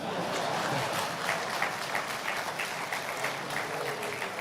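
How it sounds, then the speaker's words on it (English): Audience applause at the launch event for Ghana's national AI strategy, a steady sustained wash of many hands clapping, fairly loud and even throughout with no voices on top. "Please, can I get another applause?"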